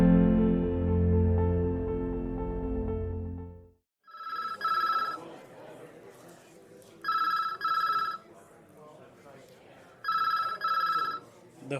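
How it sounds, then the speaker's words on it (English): Telephone ringing in a busy police precinct: three bright repeated electronic ring bursts about three seconds apart over a low bed of busy room noise, after a short stretch of music at the start. "The phone rings yet again in the busy precinct"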